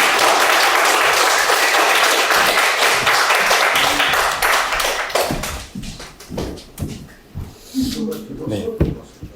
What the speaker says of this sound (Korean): 뜨거운 박수로 맞겠습니다.